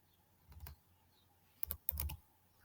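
Bursts of typing on a computer keyboard while entering CSS padding code, two short clusters of quick, close keystrokes separated by a quiet pause.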